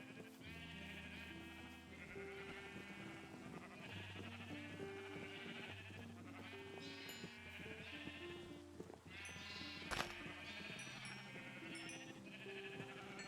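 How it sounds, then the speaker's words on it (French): Sheep in a farming video game bleat repeatedly over steady game music, several overlapping wavering calls coming in close succession throughout, with a sharp click near the end. "Ok, on va nourrir les moutons."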